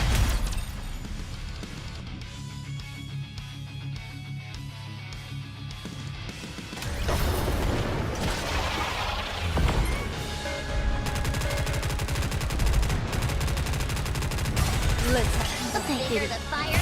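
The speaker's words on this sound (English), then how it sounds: "The fireworks set off all the firecrackers." Firecrackers going off in the video game NIKKE, a dense loud crackling barrage that swells after a quieter stretch and continues with sharp bursts and pops over game music.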